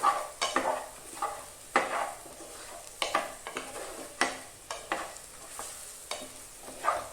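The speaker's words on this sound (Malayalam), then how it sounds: "മല്ലിപ്പൊടി ഇട്ട ശേഷം ഒന്ന് ഇളക്കുക." Coriander powder frying in a pan for chicken curry while being stirred, with a soft steady sizzle broken by repeated scraping and clinking strokes of the spoon, close and moderately quiet.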